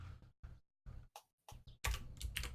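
Keys on a mechanical keyboard click and clack close by in short typing bursts separated by brief pauses. A denser, faster flurry of keystrokes comes at the end, and no one speaks.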